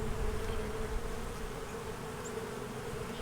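Honey bees swarm and buzz around an open spring hive packed with fresh nectar, a dense, steady, close-up drone that fills the whole clip with no voices.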